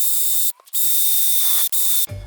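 A power drill driving a hole saw whines loudly at a steady pitch, cutting out briefly twice before spinning down at the end.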